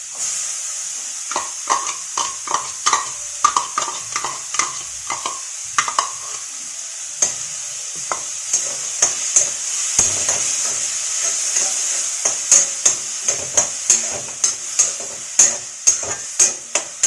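Chopped tomatoes sizzle and fry with browned onions in a pan, a constant hiss under repeated close scraping taps of a spoon stirring against the pan, with no talking.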